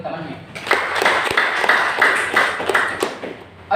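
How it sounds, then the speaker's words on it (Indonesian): Classmates in an Islamic school classroom clap in a short rhythmic round of roughly a dozen sharp, evenly spaced claps, near and fairly loud. "Berikan tepuk tangan dulu untuk temannya"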